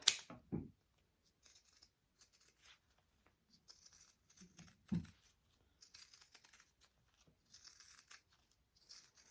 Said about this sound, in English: I'm going to use my pinking shears and just trim that up.